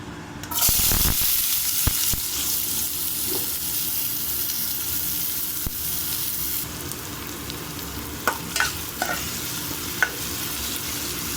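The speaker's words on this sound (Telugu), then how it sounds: "ఇప్పుడు ఈ ఆయిల్ హీట్ అయ్యాక మనం ఆనియన్, పచ్చిమిర్చి కట్ చేసుకున్నాం కదా, ఇది వేసేసుకున్నాం అందులో" Chopped onion and green chilli hit hot oil with a loud burst of sizzling that settles into a steady fry, with a few scraping stirs and clinks near the end, no talk.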